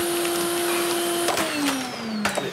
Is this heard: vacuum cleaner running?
yes